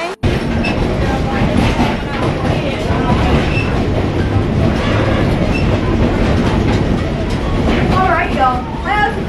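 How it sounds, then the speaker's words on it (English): A train rumbles along the rails in a steady, loud roar with rhythmic clatter and faint squeals near the end, voices faintly mixed in. "I forgot I rode this train before."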